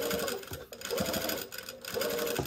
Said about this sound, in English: It obviously was not picking up the bobbin thread, but then it decided to do that